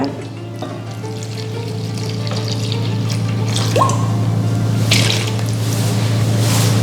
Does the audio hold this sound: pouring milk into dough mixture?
yes